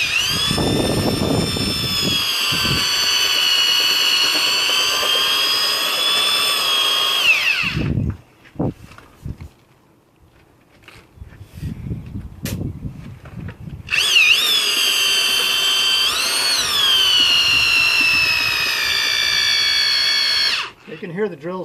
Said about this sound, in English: You can hear the drill's having a little bit of trouble